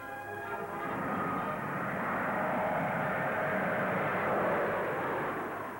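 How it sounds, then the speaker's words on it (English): Engines of a Vickers Viscount propeller-turbine airliner, an early turboprop, give a steady dense roar with a whining turbine hum, constant and fairly loud for about six seconds. "here in the Vickers Viscount is the first of its kind in the world"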